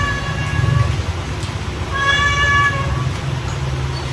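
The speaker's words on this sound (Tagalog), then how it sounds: "Ayan naman yung pusa mga baby ngayon naman." A cat meows twice at a family birthday meal, close and fairly loud, with a low clatter and murmur of people eating in the background.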